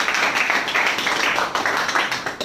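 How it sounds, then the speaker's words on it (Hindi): An audience claps at a network marketing training session, giving a steady, dense patter of many hands that runs through the whole stretch at a fairly loud, even level. "अब बजाओ ना ताली,"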